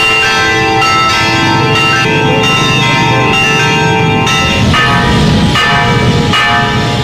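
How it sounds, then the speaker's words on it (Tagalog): Bells of Palo Cathedral ring continuously and loudly, marking Pope Francis's arrival in the Philippines, with sustained overlapping tones and rhythmic strikes throughout and no voices. "Umalingaw-ngaw rin ang kampana ng Palo Cathedral na pupuntahan ni Pope Francis sa Sabado."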